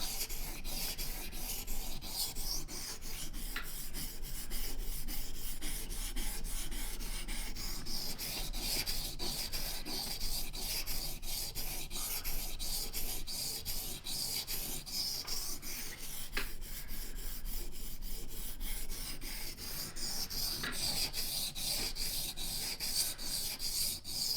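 Steady rhythmic scraping of a bushcraft knife drawn repeatedly across a sharpening stone, close and continuous for a long stretch with no talking.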